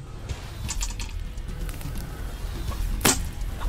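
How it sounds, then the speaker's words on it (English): During a turkey hunt, an arrow slips off the shelf of a recurve bow as it is drawn and knocks against the bow, making a few light clicks and one sharp rap near the end. "when I draw it, the arrow comes off the shelf, goes back and hits the bow and makes a noise"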